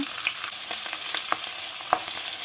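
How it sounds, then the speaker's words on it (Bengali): Green chillies are dropped into hot mustard oil left from frying fish, crackling in a steady close sizzle with sharp pops and spatula stirs scattered throughout. "মাছগুলো ভেজে তুলে নেওয়ার পর এর মধ্যে ফোড়নে দেব কয়েকটা কাঁচা লঙ্কা"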